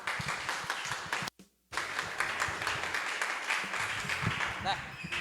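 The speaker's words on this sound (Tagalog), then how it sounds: "Daming palakpak" Congregation clapping during a midweek church fellowship service: loud sustained applause from a crowd, briefly cutting out, then continuing with voices mixed in.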